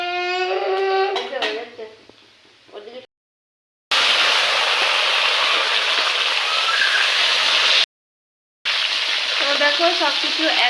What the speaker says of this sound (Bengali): তো দেখো সব কিছু একসঙ্গে তেলের মধ্যে ফোড়ন দিয়ে জলপাইটা বসানো হলো।